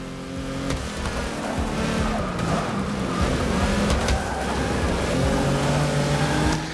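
Old race cars in Forza Motorsport 6 roar flat out through Eau Rouge, engines howling loud and close with bursts of tire squeal and rushing noise throughout, no talk.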